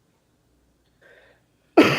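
A single short, sharp cough comes near the end after near silence, preceded by a faint breathy throat sound.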